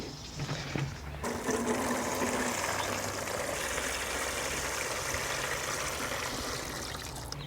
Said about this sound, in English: I'm going to set these in a tray and give them a drink because they are dry and they do need water.